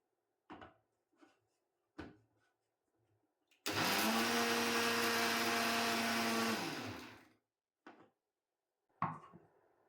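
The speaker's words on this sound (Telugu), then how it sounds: "ఇలాగే మళ్ళీ మళ్ళీ మనము మిక్సీకి వేసుకుందాము." An electric mixer grinder whirs loudly for about three seconds while grinding turmeric, the motor spinning up, holding a steady high whine, then winding down, with a few clunks and taps of the jar and lid before and after.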